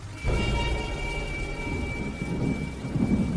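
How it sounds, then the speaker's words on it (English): A deep rumble of thunder rolls in abruptly and lingers, with steady rain hissing throughout and a faint high tone running under it. "A clap of thunder rumbled"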